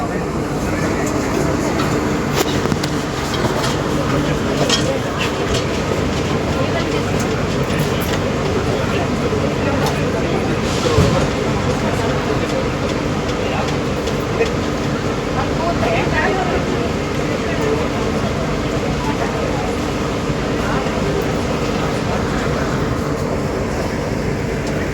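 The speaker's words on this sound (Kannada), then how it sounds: "Yeshwanthpur railway station ಬಿಡ್ತಿದೆ" Siddhaganga Intercity Express pulling out of Yesvantpur railway station, a steady broadband rumble of rolling wheels and carriage noise running throughout, with faint voices in the background.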